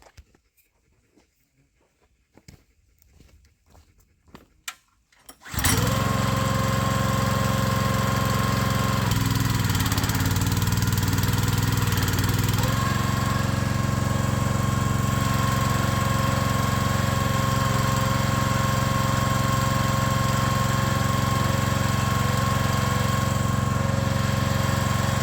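A Splitfire 1165v log splitter's small engine starts after a few quiet handling noises, then runs loud and steady as it splits a piece of hickory, with a brief strained dip in tone partway through.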